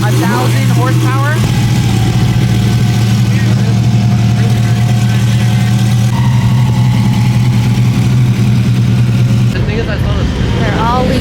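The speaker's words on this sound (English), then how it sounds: "So it's a twin turboed Audi R8." Twin-turbo Audi R8 engine idling at a car show with exotic cars, a steady close low drone that cuts off near the end, with voices speaking around it.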